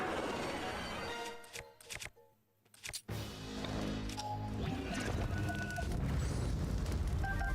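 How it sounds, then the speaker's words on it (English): A video game explosion erupts in a loud, dense burst, drops to near silence for about a second, then returns as a sustained, rumbling roar of debris and fire that fills the rest of the clip. "I'm not letting you take this explosion away from me."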